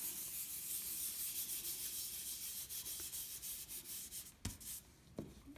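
A putty rubber rubbing over a dense patch of charcoal on paper, giving a soft continuous scrubbing rasp in close, quiet strokes, with a couple of sharper taps near the end.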